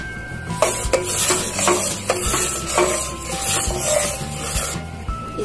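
Bread crumbs stirred into milk cooked with sugar in a pan for ghevar, a continuous close scraping and rubbing of the spoon with faint bubbling beneath.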